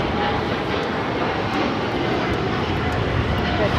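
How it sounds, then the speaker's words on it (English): A United Airlines Boeing 787-9 Dreamliner jet takes off at Los Angeles International Airport, a loud, steady engine roar that holds without a break, with faint voices beneath it. "This is United Airlines 198 taking off to Shanghai on the 787-9 Dreamliner."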